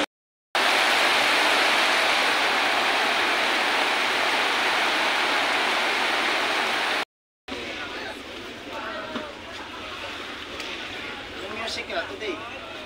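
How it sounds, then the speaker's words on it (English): Steady rain pours in Boracay, a loud broadband hiss filling the first several seconds, then after a brief gap it continues more softly with scattered drops under faint voices. "Use this umbrella because now it's raining."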